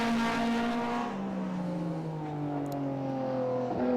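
Heritage Group A touring race cars at Winton race hard, led by a Nissan GTR, with a loud, close engine note sliding downward as the cars pass, then a rise near the end.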